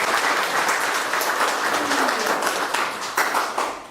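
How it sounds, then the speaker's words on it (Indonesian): An audience at a morning leadership address by a national search and rescue agency official breaks into applause, dense continuous clapping that holds steady throughout. "Tepuk tangan untuk kita semua."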